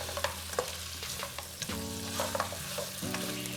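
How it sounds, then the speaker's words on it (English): Goat meat (mbuzi) frying in cooking oil in a pan, giving a steady close sizzle with scattered pops and clinks of stirring over a constant low hum, with no voices. "adding in some cooking oil into here to start frying the Mbuzi"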